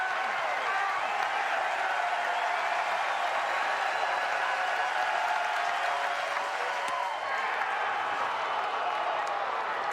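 Baseball stadium crowd at a college game between Texas and Tennessee Tech, a broad, sustained roar and applause rising as fans stand, with a commentator talking over it.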